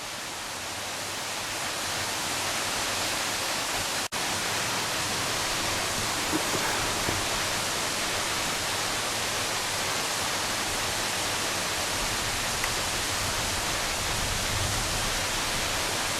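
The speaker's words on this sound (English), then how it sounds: "That's a fair old fall, 'tis that." Waterfall at Catrigg Force in the Yorkshire Dales, a steady, loud broadband roar of falling water heard close by, continuous and unbroken throughout.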